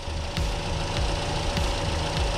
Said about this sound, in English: now the engine is on